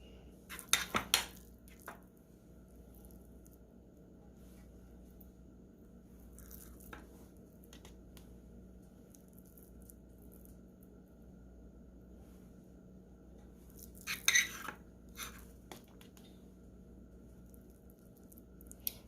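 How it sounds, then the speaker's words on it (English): Sausage and cheese mixture being pressed into mushroom caps in a home kitchen, with a few close clinks of a utensil against a dish at the start and again near the end over a quiet, steady background. "stuff the mixture in the mushrooms"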